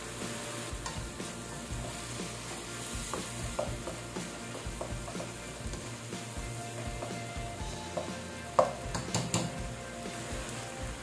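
Water poured into a pan of shrimp sarciado sets off a steady sizzle, with stirring scrapes and a sharp clink of utensil on pan near the end, all close and unbroken.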